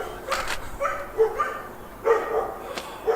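Several dogs bark in the background outdoors during winter garden work on hawthorn and maple bonsai trees, short sharp barks in scattered bursts at moderate distance, with no talk over them.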